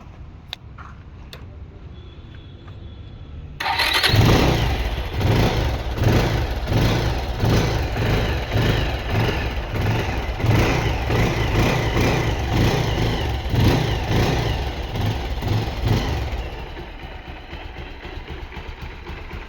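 A Bajaj Pulsar 220F motorcycle engine starts abruptly and runs with a pulsing, throbbing rhythm, revving slightly before settling and cutting off near the end.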